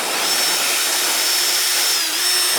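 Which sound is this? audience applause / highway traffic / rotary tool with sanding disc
rotary tool with sanding disc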